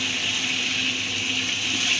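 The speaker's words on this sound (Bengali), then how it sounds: "এখন আমরা একটু পানি দিব" Water streams steadily into a pot of cooking meat curry, a close, continuous rushing pour with no pauses and no talking.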